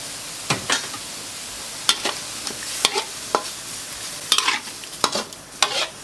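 Squid with turmeric is stir-fried in a hot pan with a splash of soup stock, a low sizzle under repeated close scrapes and clacks of a spatula stirring at an uneven pace.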